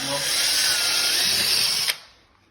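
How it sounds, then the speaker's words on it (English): A power drill drilling holes into a flood-damaged wall under the trim whirs steadily at high speed for about two seconds, then stops abruptly, leaving near silence. "drill holes, drill a bunch of holes"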